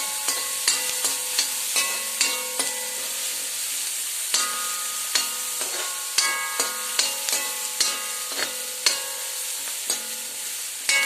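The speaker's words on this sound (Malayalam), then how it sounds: "എന്നിവയിട്ട് ഒന്നുകൂടെ എണ്ണയിൽ വഴറ്റിയെടുക്കുക നന്നായിട്ട് വഴറ്റിയെടുക്കുക" Green chillies and other ingredients sautéed in oil for upma made with puttu flour, with a soft sizzle under regular spoon scrapes against the pan, close and rhythmic.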